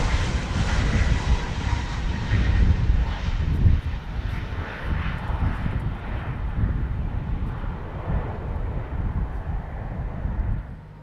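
A Boeing 737 MAX on the Amsterdam to Antalya flight at Schiphol gives a loud, steady jet-engine roar that slowly fades away, with light wind buffeting the microphone.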